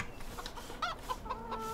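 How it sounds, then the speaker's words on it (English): Chickens cluck softly on a farm in the video game Farming Simulator 2015, several short clucks in an irregular pattern over a faint steady ambient hum. "I've just gone near the chickens and there's plenty of eggs to pick up"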